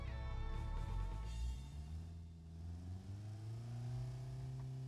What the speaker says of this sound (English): that's a quiet engine, isn't that?